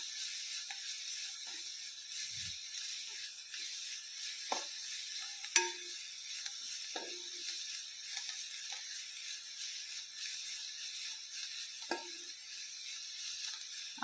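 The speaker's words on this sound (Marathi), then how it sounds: "कोथिंबीर टाकल्यानंतर आपण हा 1 मिनिट चांगला परतून घेऊ." Green chili thecha with chopped coriander sizzles softly in a pan as it is stir-fried, a steady high hiss with occasional light clinks and scrapes of a spatula, faint and close, with no talking.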